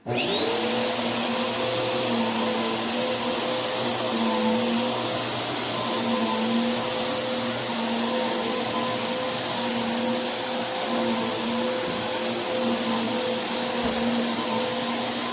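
A Bissell PowerForce Helix upright vacuum cleaner runs steadily and loudly from start to finish, a constant motor whine with a high sustained tone and no talking.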